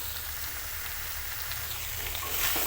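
Spiced soybean and potato curry sautéing in a hot pan, a dense steady sizzle, close and fairly loud, swelling slightly at the end.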